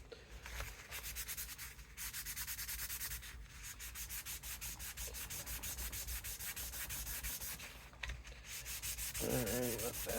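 Finer-grit sandpaper rubbing over a Martin guitar bridge, a rapid, even back-and-forth scratching in quick regular strokes, close and fairly quiet, with brief pauses between runs.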